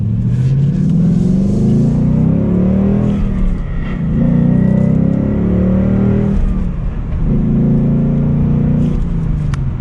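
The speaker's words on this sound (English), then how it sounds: "The 5-liter V8 is the engine choice to go with, mainly for that exhaust note" A 2022 Ford Mustang GT Premium California Special with a 5-liter V8 and six-speed manual accelerates hard. Its loud, throaty exhaust rises and falls through several rev climbs and gear changes, close and continuous.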